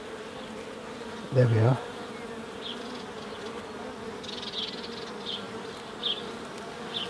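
Honey bees hum around an open hive as a low, steady drone, with a brief louder buzz as one flies close past. A few faint clicks follow, and a voice speaks briefly.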